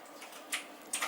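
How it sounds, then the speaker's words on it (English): Someone stepping across a computer keyboard in a quiet room, giving two brief, faint clacking key taps about half a second apart. "She was walking on the keyboard."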